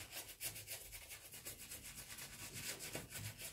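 Shaving cream being spread over a beard with a soft brush gives a quiet, steady scrubbing sound of quick rhythmic strokes, heard alone at close range.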